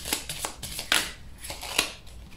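Tarot cards being handled and laid down during a card reading, a series of soft papery slaps and flicks at uneven intervals, close and quiet.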